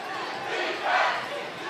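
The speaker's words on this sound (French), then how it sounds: "la foule là, qui encourage son équipe" Crowd at an ultimate frisbee game cheering for its team, a broad distant roar of voices that swells briefly in the middle, with shouts mixed in.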